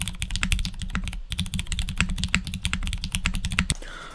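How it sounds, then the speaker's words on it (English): Rapid, steady typing on a custom mechanical keyboard, a dense run of crisp, close keystrokes with no talking, ending in a brief pause. "These are my favorite mechanical keyboards of 2022"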